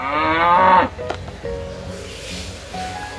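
A toy cow gives a loud, drawn-out moo that slides downward and lasts almost a second. Quieter tones and soft background noise follow.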